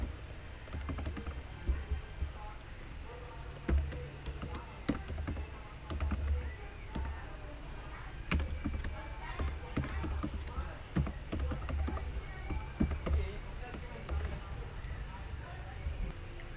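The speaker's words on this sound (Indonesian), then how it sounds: "Saya akan men-skip sampai saya selesai dalam mengetikkan kodenya." Code being typed on a computer keyboard, a steady run of quick, soft key clicks throughout, fairly quiet, with a low background hum and a voice talking over it.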